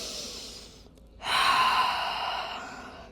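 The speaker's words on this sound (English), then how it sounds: "let's just take 3 deep breaths here in child's" A deep breath taken in child's pose during a Pilates session: a soft airy inhale, a brief pause, then a longer, louder, breathy exhale close to the microphone.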